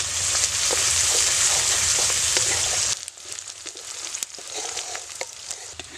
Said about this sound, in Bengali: পেস্টটা একটু লাল লাল করে ভাজতে হবে